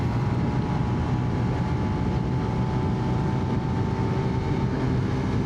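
A Honda Navi scooter engine runs at full throttle, giving a steady, loud drone with a rushing roar of wind and road noise on an open ride.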